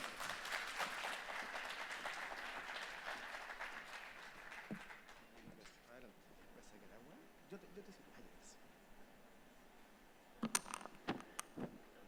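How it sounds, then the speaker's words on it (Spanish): Fairly quiet applause from a conference audience for a speaker at an e-commerce summit, clapping for the first few seconds then fading into low room noise and soft movement, with a few scattered claps near the end. "Fuerte el aplauso para George Lever."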